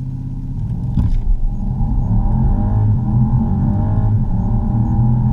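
A BMW M850i with a twin-turbo V8 accelerates hard. A deep, loud engine roar builds and rises in pitch, with a brief transient near the start, and no talking.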